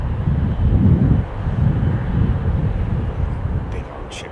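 Big Boeing 777 jets at Heathrow give a loud, broad roar that swells early and then eases off, mixed with wind buffeting, while someone talks over it.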